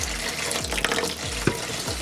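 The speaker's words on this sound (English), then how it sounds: "I'm going to run some water" Water runs from a tap with a steady splashing rush, broken by a few small clinks and knocks nearby.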